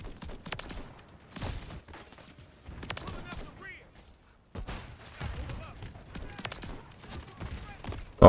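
Shotgun blasts in Call of Duty: Modern Warfare 3 multiplayer, several sharp booming shots in uneven bursts, heard beneath a player talking over the gunfire.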